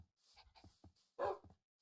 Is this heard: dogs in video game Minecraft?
yes